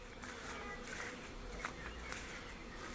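Honeybees swarm and buzz densely around hives just extracted during an acacia honey harvest, a loud, continuous hum close by with bees darting past.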